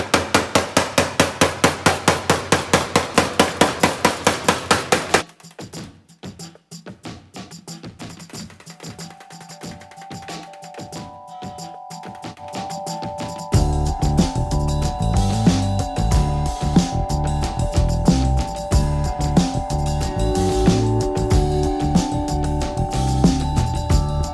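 Panel beater hammer stretching sheet metal for a fabricated floor pan on a 1970 Challenger, struck against a sandbag: a fast, loud, even run of metallic blows for about five seconds, then sparse lighter taps, then a dense, clanging stretch of hammering.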